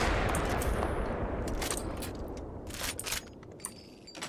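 Dense full-auto gunfire from a modded Quaver rifle in the Apex Legends video game, a continuous rapid roar that thins into separate sharp shots toward the end.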